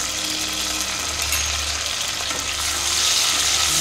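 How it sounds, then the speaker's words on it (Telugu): Cashews frying in a pan with whole spices such as caraway, cloves, cardamom, cinnamon and star anise give a loud, continuous close sizzle with a low background hum and no talk. "జీడిపప్పు వేసి వేయించుకోవాలి."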